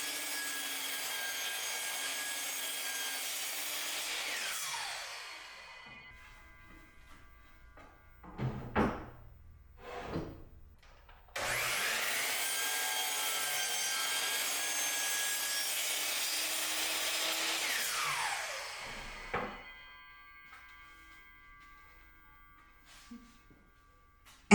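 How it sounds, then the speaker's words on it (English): A miter saw cuts wood, squaring the sides to 90 degrees. There are two long, harsh whining cuts, each winding down. Between the cuts come quieter knocks and clunks. "Use the miter saw to make sure you have 90-degree angles and clean up the sides."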